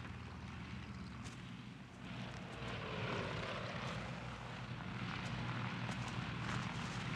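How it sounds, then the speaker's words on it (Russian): A propeller airplane comes in to land in a 1973 Soviet war film, its steady engine drone and prop hum filling the scene with no talk and swelling slightly as it nears. "Вот это заходит на посадочку"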